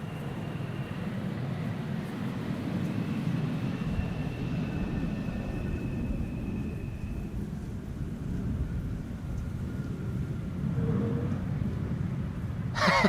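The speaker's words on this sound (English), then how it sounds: "Landings on Polderbaan have resumed." A low, steady jet roar rumbles in the distance, an airplane passing overhead on approach to Polderbaan runway at Amsterdam Schiphol Airport in showery winter weather, continuous with no voices.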